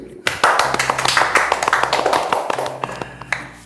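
An audience claps together in a quick, steady patter of many hands, sustained for a few seconds at close range and trailing off at the end.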